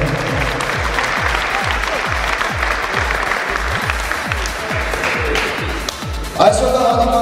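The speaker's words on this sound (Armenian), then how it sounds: "Բարձր ծափահարությունները բնորոշ են շնորհակալություն հայտնելու Սարհատի Կրեմի լեգենդար ֆուտբոլիստներին։" A stadium crowd at a football cup match applauds legendary former footballers, loud rhythmic clapping and cheering that swells near the end, with a commentator talking over it.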